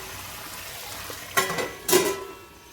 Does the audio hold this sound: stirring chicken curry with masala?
yes